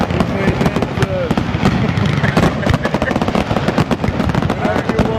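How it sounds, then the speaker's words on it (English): Fireworks go off in a backyard in a long rapid string of sharp crackling bangs, loud and close, with people talking over the barrage. "You got fireworks in the backyard."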